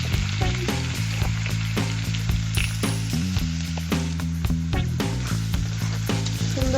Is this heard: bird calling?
no